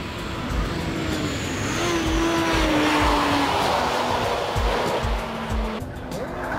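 A 1600 cc Honda Civic Type R (EK9) engine roars steadily at high revs through chicanes, close and loud, with a rising whine and tyre and road noise underneath.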